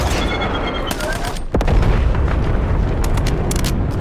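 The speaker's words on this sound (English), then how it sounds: "Napalm strike ready for delivery." Loud napalm strike in Call of Duty Warzone: a rapid barrage of booming explosions and crackling bursts, with a dip then a fresh heavy blast halfway through, dense and close.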